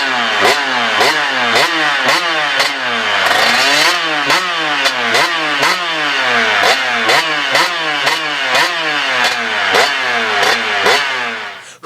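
A 2003 Kawasaki KX125 two-stroke dirt bike engine revs loud and close in quick repeated blips, pitch rising and falling in a steady sawtooth rhythm with no talk over it.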